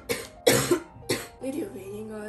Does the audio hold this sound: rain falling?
no